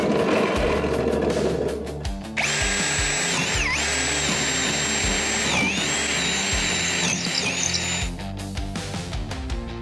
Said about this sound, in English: Now we're just going to drill out some holes.